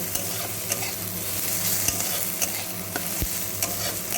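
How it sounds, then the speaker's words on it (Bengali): Dried shrimp mash with onions and turmeric frying in a pan, with a constant sizzle broken by sharp scraping stirs at irregular intervals, close and fairly loud over faint background music. "আর সামান্য একটু হলুদ গুঁড়ো দেব, দিয়ে ভালো করে মিশিয়ে নেব। এইভাবেই পুরোটা ভেজে নেব।"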